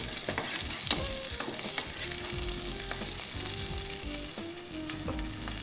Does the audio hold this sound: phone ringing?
no